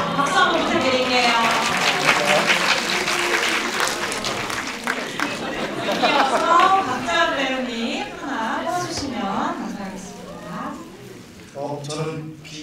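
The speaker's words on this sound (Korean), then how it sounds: "박수 한번 부탁드릴게요" An audience applauds at a film premiere stage greeting in a cinema, steady clapping spread through the hall while a voice talks over it for most of the stretch.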